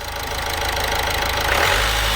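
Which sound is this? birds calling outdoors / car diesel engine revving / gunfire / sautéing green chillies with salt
car diesel engine revving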